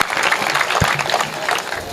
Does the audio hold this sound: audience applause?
yes